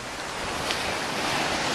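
Ocean surf washes steadily onto a Bahamas beach at a resort, a loud, continuous hiss of waves with wind buffeting the microphone.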